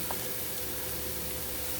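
Onions brown in a pan for a honey mustard salmon and apple-potato hash, giving a steady, close, even hiss of sizzling frying with no talk over it.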